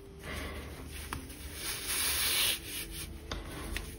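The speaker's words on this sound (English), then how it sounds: "just gonna pull the needle through. Maybe a little hard, but pull it through" A yarn needle dragged hard through a ribbed crochet beanie makes a close, soft scratchy rubbing of fiber, steady and getting louder for a moment halfway through, with no one talking.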